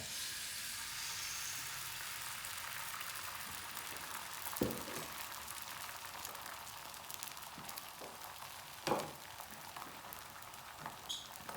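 Scrambled eggs sizzle quietly in a hot frying pan, a steady soft crackle with a couple of light knocks from utensils, no voices.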